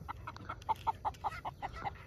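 A chicken clucks in a steady series of short, evenly spaced calls, about a dozen in two seconds, fairly faint over low outdoor background noise.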